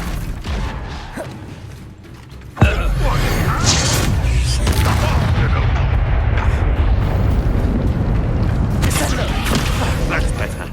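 Bombarda spell explosion in Hogwarts Legacy: a sharp blast that opens into a loud, sustained rumbling roar lasting many seconds, with a voice speaking under the noise.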